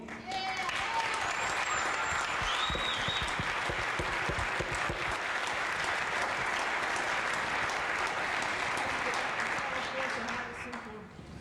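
An audience at a 2002 reunion of the women's baseball league in Cooperstown, New York, applauds an honoree with loud, sustained clapping from many hands, holding steady for about ten seconds before tapering off at the end.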